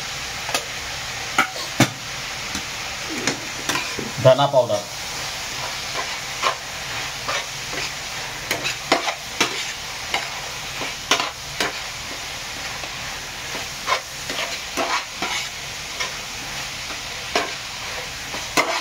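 Schezwan fried rice with turmeric, red chili powder and coriander powder stirred in a hot pan, giving a steady sizzling hiss broken by repeated sharp scraping clicks of the spatula, close up with no talk.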